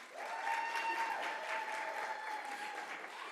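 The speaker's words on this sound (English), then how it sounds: "Give him another round of applause." An audience at a school oratorical competition applauds a contestant, a sustained wash of clapping from a crowd in a hall, moderately loud and steady throughout, with faint voices beneath.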